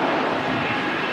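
A Virgin Atlantic jet airliner at Manchester Airport rolls for takeoff, a steady, loud, broad engine roar heard from a distance with no voices over it.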